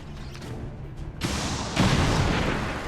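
Rocket explosion in the video game XCOM 2, a sudden loud rumbling blast that swells after a quieter lead-in and then sustains as a broad roaring wash of debris and noise.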